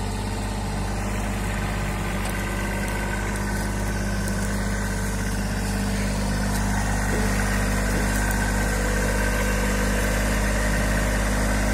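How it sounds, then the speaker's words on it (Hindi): A Kubota 2441 tractor, a 24-horsepower machine hauling a load of about 30 quintals of sugarcane, drones steadily and loudly throughout, a constant close engine rumble with no talk over it. "चल पड़ा भाई ट्रैक्टर,"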